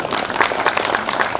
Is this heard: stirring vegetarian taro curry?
no